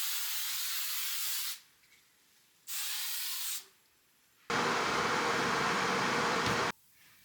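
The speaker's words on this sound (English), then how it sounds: "let me spray with hair spray." Hair spray hisses from an aerosol can in three close, loud bursts, two short ones separated by pauses, then a longer, fuller spray.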